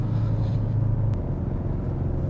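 A 2016 Ford Focus RS all-wheel drive car pulls hard under acceleration, heard from inside as a steady, loud low engine drone with constant road rumble throughout.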